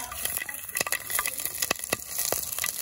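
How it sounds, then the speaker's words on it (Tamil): Cinnamon and cloves sizzle and crackle in hot oil in a pan for a village-style Chettinad chicken, a close steady frying hiss broken by sharp pops, with no talking. "எல்லாம் சூடாயிட்டு அடுத்து நம்ம பட்டை, கிராம்பு போட்டுக்கலாம்."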